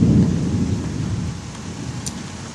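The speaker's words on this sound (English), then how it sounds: "Can you imagine the lightning bolt striking the pool just now?" Loud nearby thunder from a lightning strike rumbles heavily at the start and slowly fades under steady rain falling on surfaces, with one faint brief click near the end.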